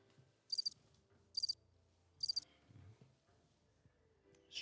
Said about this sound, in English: Straight crickets.